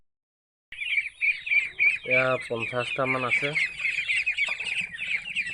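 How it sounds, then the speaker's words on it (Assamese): Local ducklings cheep in a busy, high-pitched chorus nearby, with a few louder rapid call bursts in the middle while someone speaks briefly over them. "এইখিনি লোকেল হাঁহ পোৱালি হয়"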